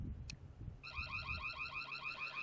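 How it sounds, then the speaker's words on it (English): A sharp click, then a solar security camera's warbling electronic alarm siren starts and repeats in fast pulsing cycles, fairly loud and close. "And let's test the alarm out here."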